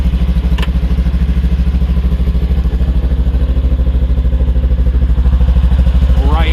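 A Segway Fugleman side-by-side UTV engine idles with a rapid, even low chug and faint mechanical clatter, loud and close throughout.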